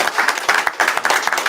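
Applause from an audience at a live scripture class, a dense run of quick overlapping claps, fairly close and steady throughout.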